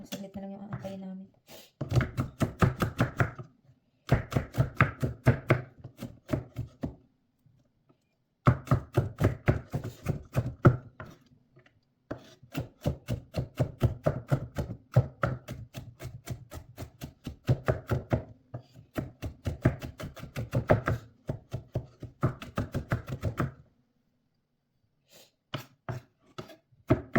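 Garlic is chopped with a knife on a board in rapid, even bursts of close, crisp taps, broken by short pauses, with a faint sniff or cough in places.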